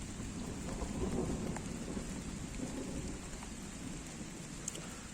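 Steady rain pours down at a carp fishing spot with low rumbling thunder rolling underneath, a continuous dense wash of sound with no voices.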